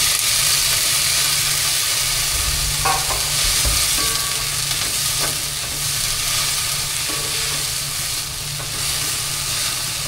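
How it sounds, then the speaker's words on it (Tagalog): Vegetables sauté in a hot pan with a loud, continuous sizzle and hiss, broken by occasional scrapes and stirs of a utensil, with no talking. "Gisa natin."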